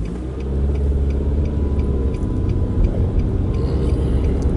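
A 2013 Nissan Sentra with a slipping CVT transmission runs as a steady, loud low engine drone that rises slightly in revs, with faint ticking over the rumble and no talking.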